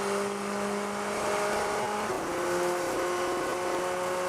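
Endurance race cars at Spa-Francorchamps during the 6 Hours sports car race, a steady blend of engine drone and tonal whine from cars on track, moderately distant and continuous with no talk.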